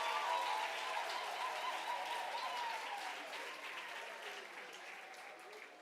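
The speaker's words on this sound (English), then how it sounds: "Give yourself a round of applause." An audience at a World Intellectual Property Day celebration applauds steadily, a dense wash of many hands clapping that fades gradually over several seconds, with a faint murmur of voices underneath.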